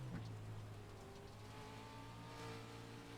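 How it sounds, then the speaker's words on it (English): Race truck engines in the iRacing video game revving and droning with a steady buzzing tone that rises slightly, faint and continuous with no talk. "engines are definitely screaming on these trucks"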